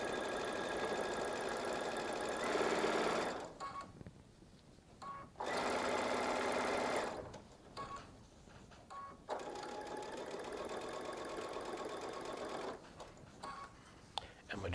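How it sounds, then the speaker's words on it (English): A Baby Lock Solaris sewing machine stitches a pieced quilt-block seam in three loud, steady whirring bursts. Quieter handling sounds fill the gaps between runs. "I'm just going to line it up and sew it down"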